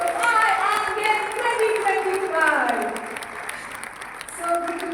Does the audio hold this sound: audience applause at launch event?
yes